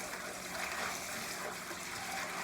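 Fresh collard greens are rinsed under running tap water, giving a steady, close splashing rush with slight shifts as the leaves are moved under the stream.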